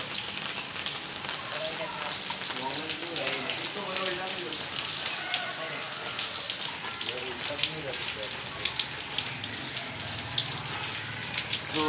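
Steady rain patters and crackles on a surface close by, with scattered sharper drops rising above the constant hiss. A voice speaks faintly underneath the rain.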